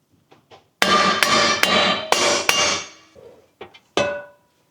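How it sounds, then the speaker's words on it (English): Several loud hammer blows ring out on metal in quick succession while working on a turbo Camry, followed by a pause and two or three more sharp strikes. "You need a big hammer?"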